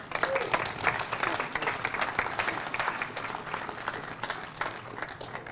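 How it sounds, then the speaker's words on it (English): An audience applauds at a Stockton University boat naming ceremony. The clapping is dense and steady, continuing for several seconds with a faint crowd murmur underneath. "Can we have another round of applause for Horizon for making this day possible?"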